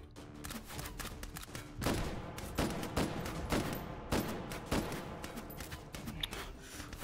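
Rifle shots in the VR shooter game H3VR, a rapid string of sharp cracks fired in quick succession across several seconds, loud and close, with no talking over them.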